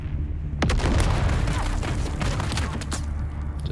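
A grenade detonates with a heavy booming blast in the sci-fi survival game Dune: Awakening, a sudden loud explosion that rolls on with crackling debris and rumble over several seconds during a multiplayer firefight.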